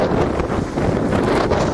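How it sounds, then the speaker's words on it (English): Strong wind buffeting the microphone at a beach in Holguin, Cuba, a loud continuous roaring rumble with gusty flutter, close and unbroken, no talk. "It's a bit windy here, so excuse the shake in the camera."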